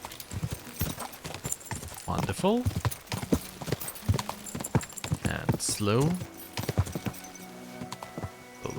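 Horse hooves clip-clop in Kingdom Come: Deliverance II near an inn, steady and close with a short neigh, while someone talks over the hoofbeats.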